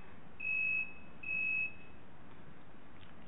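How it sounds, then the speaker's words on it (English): Two electronic tones of a telephone ring, evenly spaced and of equal length, come through at moderate volume over steady background hiss in a committee meeting room. "I think that's the phone rather than the fire alarm"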